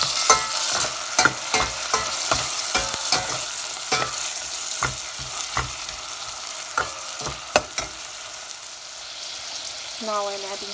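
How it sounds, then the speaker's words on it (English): Prawns and onions frying with salt in sunflower oil in a pan, giving a steady close sizzle broken by frequent sharp stirring scrapes and clicks, with a brief tonal sound near the end. "am frying some onions with sunflower oil"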